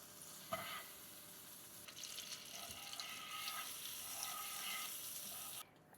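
Butter sizzling and frying in a heated pan at home, a steady crackling hiss with a few stirring clatters, fairly close and continuous until it cuts off near the end.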